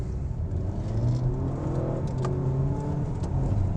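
Toyota Camry TRD accelerating hard in a rolling race, its engine note climbing under a steady loud road and wind roar heard from inside the car.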